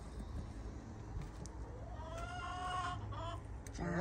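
Chickens in a backyard clucking in short bursts, moderately close, over a steady background hum, with a louder squawk near the end.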